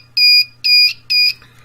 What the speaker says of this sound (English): this is a little beeper that I got, runs on 5 volts